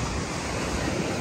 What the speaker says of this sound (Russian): слушаешь шум волны